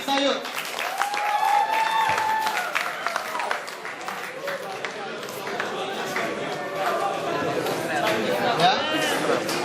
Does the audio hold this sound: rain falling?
no